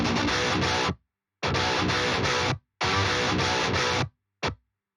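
Heavily distorted metal guitars reamped through a Bogren Digital Rev C amp simulator, playing loud, dense chugging bursts in three long blocks with abrupt silent gaps and a short final stab, with no voices.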